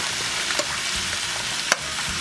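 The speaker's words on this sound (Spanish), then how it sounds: "vamos a sofreír el tomate" Tomato, onion and green chile sauté in a pan still holding meat drippings, producing a loud, continuous close sizzle with a couple of faint stirring knocks and no voices.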